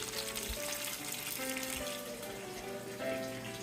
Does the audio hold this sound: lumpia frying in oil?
yes